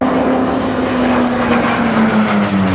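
A Vought F4U Corsair, a propeller fighter built for the US Navy, drones loudly and steadily overhead at the Ferté-Alais airshow, its engine pitch sliding slowly downward as it passes.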